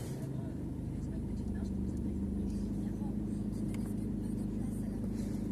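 A Peugeot 208 engine turns over and settles into a steady, close, low idle hum, with a voice speaking over it.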